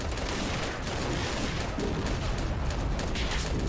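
Machine gun fire in the Men of War video game: a steady, rapid stream of gunshots that runs without a break, loud and dense, with booming battle noise underneath.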